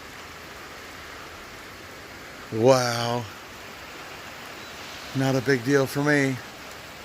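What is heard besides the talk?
rain falling outside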